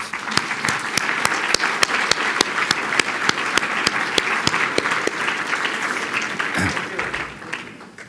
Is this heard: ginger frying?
no